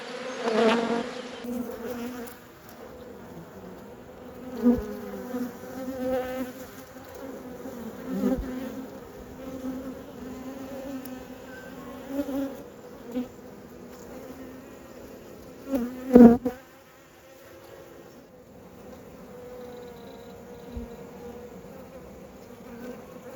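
Honeybees buzz steadily around an open hive while a brood frame is lifted, a soft continuous hum of many wings close by with occasional louder passes and a brief knock near the end.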